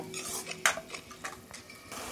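Ginger garlic paste being stirred into frying pav bhaji masala in a pan, with close spoon scrapes and clinks against the metal over a light sizzle, no talking.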